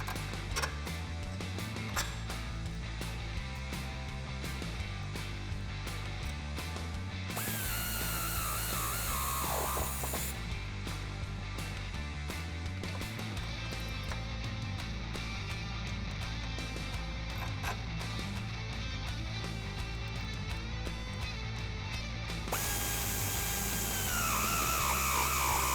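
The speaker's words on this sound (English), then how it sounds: "we'll put that factory bolt back in there and get it tightened down." A ratchet tightens the factory shock bolt on a two-door Jeep Wrangler JL axle, producing repeated clicking and creaking under a continuous background of music.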